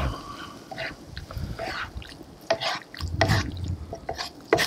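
Chorizo and potato stew simmering in a pot, with soft wet bubbling, irregular blips and plops, and occasional louder pops, heard close and fairly quiet with no talking.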